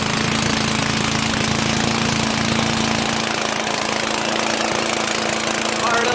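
A Craftsman Eager 1 self-propelled lawn mower engine runs with its muffler missing, a loud, harsh, continuous close-up roar that stays steady throughout.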